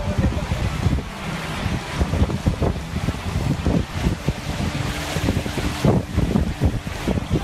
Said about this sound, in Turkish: ünlü oyuncu Erkan Petekkaya fırsatını bulur bulmaz yine tekneyle açıldı.